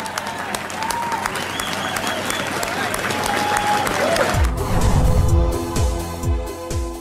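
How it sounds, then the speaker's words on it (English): A crowd breaks into loud, sustained applause for the builders of Boston's Big Dig tunnel project, swelling near the end, with voices murmuring underneath throughout. "Let's give them the round of applause that they deserve for building this project."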